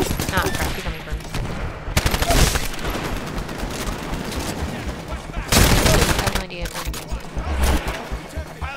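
Heavy gunfire in the Titanfall video game, sustained bursts of rapid shots from a weighty weapon running through most of the stretch, loud and close, with occasional louder blasts.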